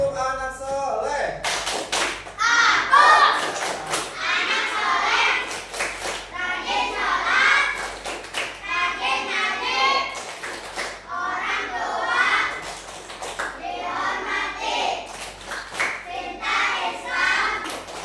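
Children perform the "tepuk anak soleh" chant-and-clap routine, rhythmic bursts of hand claps and taps between loud group chanting, close and energetic throughout.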